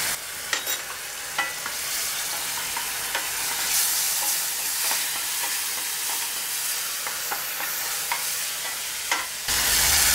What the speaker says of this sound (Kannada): ಈಗ ಒಂದೆರಡು ಸ್ಪೂನಷ್ಟು ಹುಣಸೆ ರಸ ಹಾಕ್ತಾ ಇದ್ದೀನಿ, ಜೊತೆಗೆ ಸ್ವಲ್ಪ ಬೆಲ್ಲ ಕೂಡ ಹಾಕ್ತಾ ಇದ್ದೀನಿ.